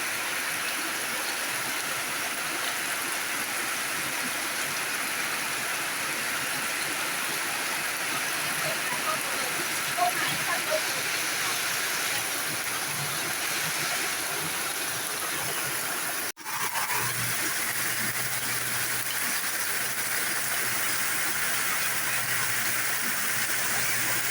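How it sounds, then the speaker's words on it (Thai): Rain falls steadily at a countryside garden house near rice fields, a dense, even hiss throughout, with a brief bump partway through and a low hum afterward. "บรรยากาศฝนตกอยู่บ้านสวนค่ะอยู่บ้านลุงค่ะ"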